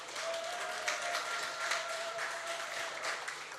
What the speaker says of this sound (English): as you come, we will applaud for you